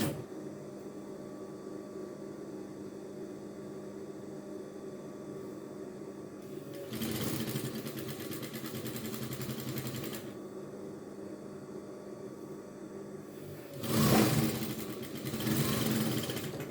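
A sewing machine stitches jumpsuit pieces together, running quietly and steadily with two louder, denser bursts of fast stitching, and no voices.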